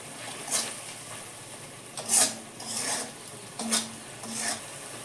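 Spices sautéed in oil in a pan for a fish curry, with salt added, several distinct scraping stirs of a spatula over a low sizzle, close and spaced irregularly.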